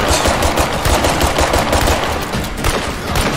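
Loud gunfire in State of Decay 2 crackles in a dense, rapid burst of shots that runs nearly the whole time.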